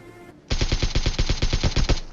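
Rapid automatic gunfire in PUBG Mobile, about fifteen loud, evenly spaced shots in one sustained burst after a brief quiet moment, with no talk over it.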